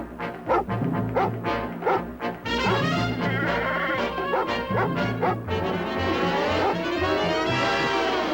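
A dog barks in a quick rhythmic run of sharp woofs, then breaks into longer drawn-out yelping and whining howls, close and loud throughout.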